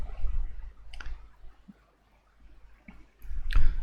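Mouse clicks on compile and run in Dev C++, a few sharp isolated clicks spaced over a few seconds alongside soft handling noise and low thumps, close and without talk.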